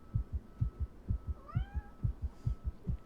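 A cat meows in the horror video game The Letter, with a short rising and falling cry heard faintly over a steady, loud, thumping heartbeat-like pulse.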